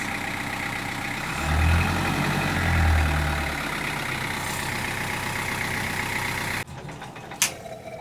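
An inline four-cylinder engine runs continuously close by, a steady smooth rumble with a couple of slight swells in revs, before the sound abruptly drops and quiets near the end.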